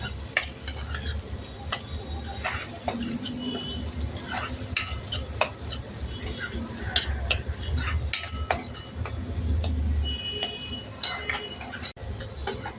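Finely chopped tomato being stirred and sautéed in a pan for a moong dal dish, with steady scraping and clicking of a spoon against the pan over a continuous low sizzle, close and moderately loud, no talking.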